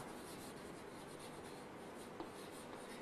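Pen scratches out examples on a board or page during a biology lesson, a soft, continuous scribbling that sounds faint and close, with no talking.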